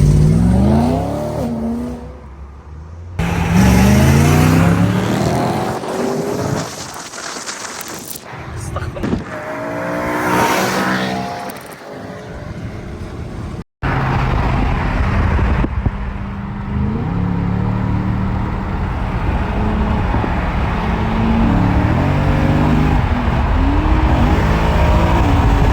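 A video game race car revs hard and drives continuously, its engine note rising and falling with tire noise through a mafia-themed game, while excited players talk over it throughout.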